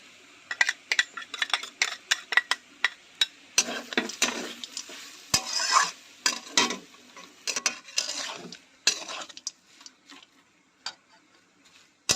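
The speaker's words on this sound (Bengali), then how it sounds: "দেখো আমি নেড়ে চেড়ে পুরটা তৈরি করে নিচ্ছি" Vegetable chop filling with coriander leaves is stirred and fried in a pan, giving irregular scraping clicks and taps over a soft sizzle, close and fairly loud, with no talking.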